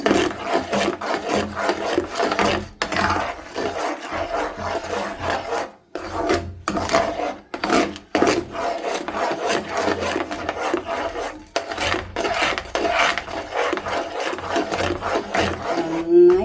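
Banana jam being stirred in a pan, a steady close scraping and rubbing with a rhythmic back-and-forth texture and brief pauses throughout.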